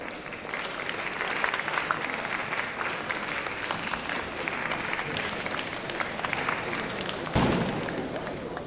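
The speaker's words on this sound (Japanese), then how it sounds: "皆様、大きな拍手でお迎えください" An audience at a Japanese flower-design award ceremony claps loudly as the judges come to the stage, dense sustained applause filling the hall at an even level with a brief louder burst near the end.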